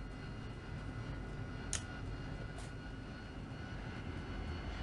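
AV-8B Harrier jet in the DCS flight simulator idling before takeoff: a steady, broadband engine roar holds throughout, with two brief higher-pitched transients near the middle.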